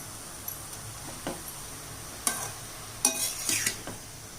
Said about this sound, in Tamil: நெய்யில் இந்த துருவின பரங்கிக்காயெல்லாம் நல்லா வதக்கி எடுத்துக்கலாம்.